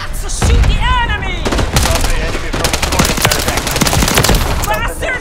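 Enemy fire in a Call of Duty MW3 multiplayer war match: dense, close machine-gun bursts and rapid shots rattle loudly, with whizzing rounds and someone speaking over the fire.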